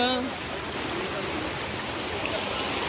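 Water pours steadily down a waterfall and stream in Malaysia, a constant broadband rush that fills the scene from start to end, with a brief voice at the very beginning.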